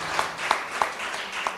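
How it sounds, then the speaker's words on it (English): An audience at a conference claps for a woman named Valsa: a short burst of applause with a few sharp, evenly spaced claps standing out from the wash. "Let us clap for Valsa auntie"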